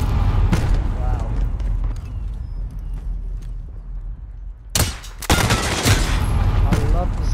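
Suppressed gunfire in Call of Duty: Modern Warfare gun game mode, loud and sustained with bursts of rapid shots and sharp transients, mixed with game effects and a voice talking over it.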